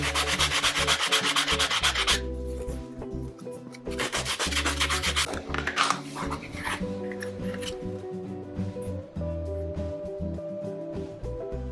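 Brisk back-and-forth sanding strokes on a leather edge in two bursts, scratchy and close, over a steady background of music.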